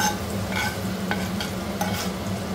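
Ingredients sizzle and crackle in a hot-oil spice tempering, with a spoon stirring and scraping through the pan at close range.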